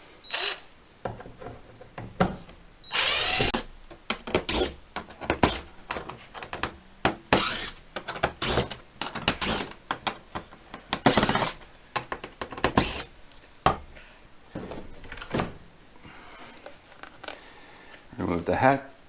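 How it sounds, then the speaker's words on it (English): A screwdriver backs out the center hatch screws on a Hobie Compass kayak, giving repeated close clicks, scrapes and sharp handling knocks in irregular bursts. "First step is unscrewing the center hatch."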